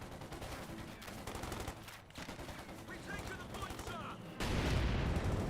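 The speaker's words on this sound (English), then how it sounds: "I hear some mortars." Mortar and gunfire from a Company of Heroes 2 battle, with overlapping bursts and rattling shots layered throughout and a louder, heavier blast arriving near the end.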